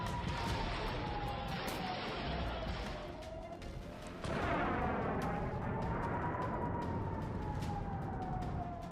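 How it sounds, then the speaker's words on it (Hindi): Distant explosions and missile strikes in a war zone, with a rising and falling siren wailing over a continuous rumbling din and a sharper burst midway. "धमाके, मिसाइल अटैक"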